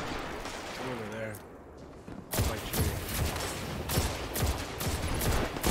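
Rapid, repeated scout rifle gunfire in a video game, a dense run of sharp cracks layered over busy game noise after a brief quieter stretch with other effects.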